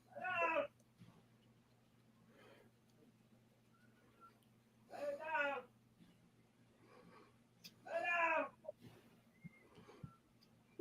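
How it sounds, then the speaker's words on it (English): A cat meows loudly three times at spaced intervals, each a drawn-out, wavering yowl, close by over a faint steady hum. "you can hear Cat Daddy yelling at Ringo"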